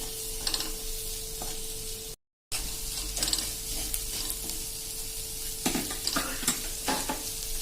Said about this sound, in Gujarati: હવે આને આપણે બ્રાઉન થાય ત્યાં સુધી હલાવતા જ રહેશું